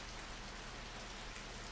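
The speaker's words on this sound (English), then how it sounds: "It started to rain." Steady rain in the video game Radiant Historia hisses evenly and continuously, a dense wash of falling drops with no voices or other sounds.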